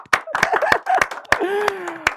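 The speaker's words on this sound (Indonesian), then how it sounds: "boleh tepuk tangan ya" Audience clapping at a talk show, a few sharp, close hand claps spaced irregularly, with voices and a snicker mixed in between.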